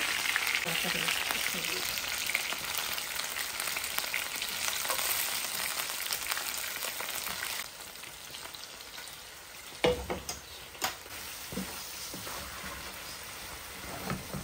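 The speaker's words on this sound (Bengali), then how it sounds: "বেশি ফ্রাই করছি না, সামান্য আমি ফ্রাই করছি।" Chicken pieces fry lightly in a pan for a curry, giving a steady close sizzle with stirring scrapes. The sizzle is louder at first and quieter after a few seconds, broken by a few sharp clatters near the end.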